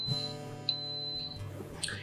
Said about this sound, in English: as soon as the vessel beeps, which it just did